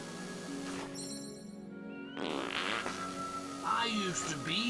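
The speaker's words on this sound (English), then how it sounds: "I gotta fart at him." A character's fart expression in the video game Fable Anniversary, a single buzzy, drawn-out blast ringing out amid game speech and ambient music.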